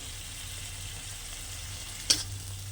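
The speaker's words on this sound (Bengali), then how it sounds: "দিয়ে কিছুক্ষণ কষিয়ে নেব মশলাটা" Spice paste seasoned with salt and turmeric powder frying in a pan for a fish curry, a faint, steady low sizzle with one sharp metallic tap or scrape from stirring near the end, no talking.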